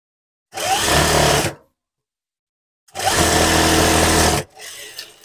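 A sewing machine stitches across a blouse lining in two loud, close, whirring runs separated by a pause, then briefly ticks over more softly at the end.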